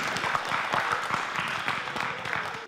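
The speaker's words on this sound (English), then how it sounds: "Let's give our friends a round of applause as they have a seat." An audience at a school STEAM night gives a round of applause, a dense, moderately loud clapping that holds steady and drops off abruptly at the end, with some voices underneath.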